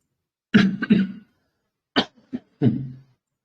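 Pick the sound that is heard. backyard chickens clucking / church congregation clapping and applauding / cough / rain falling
cough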